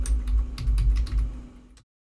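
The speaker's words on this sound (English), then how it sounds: "So I'm going to start typing sudo parted dev sda" Typing on a computer keyboard while entering a disk partitioning command, a quick run of close, clattering keystrokes that stops abruptly into silence.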